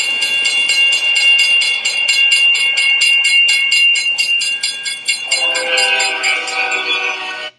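A train horn and clattering rail sounds are worked into a rap music video's beat, sustained horn tones ringing over rhythmic pulses, loud and upfront, shifting to a fuller chord near the end.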